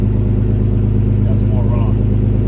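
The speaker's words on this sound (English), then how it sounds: "give it a few revs up to like 3." A Nissan G35 with Motordyne art pipes exhaust idling with a loud, steady low rumble, with no clear rev rise evident, while someone speaks briefly over it.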